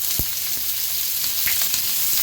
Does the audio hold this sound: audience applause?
no